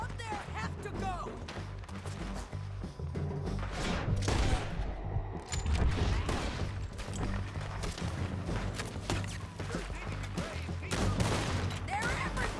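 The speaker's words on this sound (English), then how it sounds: "Keep shooting until they're not." Sustained gunfire in a video game shootout, dense overlapping shots and bursts rattling continuously at steady volume, with occasional heavier booms and voices shouting over the fighting.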